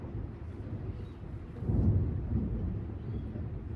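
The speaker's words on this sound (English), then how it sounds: "there's a thunderstorm happening" Thunder during a thunderstorm, a low continuous rumble that swells midway and then settles into a steady heavy roll, with no voices.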